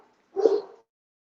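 A dog reacting to a delivery truck gives a single short, muffled bark-like whimper at moderate distance, alone and brief.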